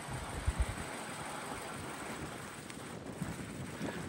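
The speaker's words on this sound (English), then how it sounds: "It's windy out here." Strong wind buffeting the microphone outdoors beside parked BMW M5 cars, a constant broad rushing roar with a few low thumping gusts and no one speaking.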